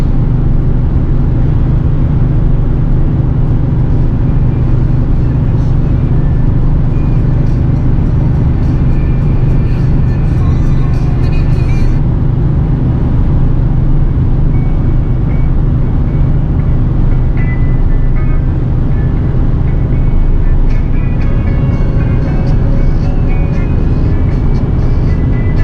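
A 24-year-old truck with an 8.1-litre gas V8 drones loudly and steadily as it tows 18,000 pounds, with a constant low engine roar and road noise.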